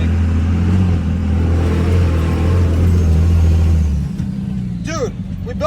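A small custom-lifted truck climbing rocks off-road revs with a loud, close, droning engine note that holds steady, then drops off as a person starts talking.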